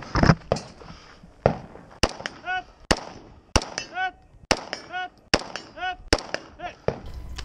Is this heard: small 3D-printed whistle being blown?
no